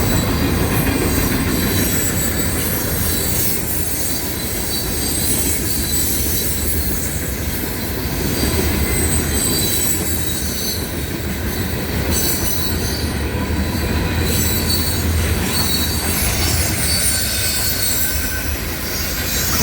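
A CSX M732 freight train rolls past in Lilburn, Georgia, its steady loud rumble of wagons carrying on throughout, with sustained high metallic wheel squeal riding over the noise and faint clickety-clack.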